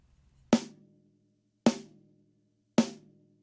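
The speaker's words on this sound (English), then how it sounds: "I still have this drum cranked, but I have a ring on it which is muffling the snare" Three single hits on a tightly cranked snare drum muffled by an O-ring, each a sharp close crack with a short damped tail, evenly spaced and alone.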